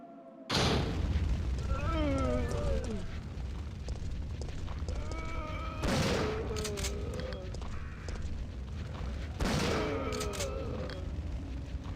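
Three heavy shotgun blasts in the original Resident Evil 3, spaced several seconds apart, each a loud booming crack followed by a decaying echo, with monster groans and moans answering between shots.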